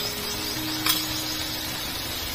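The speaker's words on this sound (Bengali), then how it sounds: "মশলাগুলো ভালো করে কষিয়ে নেব।" Ground spices (salt, turmeric, coriander-cumin and chili powder) sauté in a pan as they are stirred, making a soft, even sizzling hiss with a brief scrape near the end and no speech.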